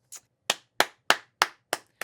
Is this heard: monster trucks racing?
no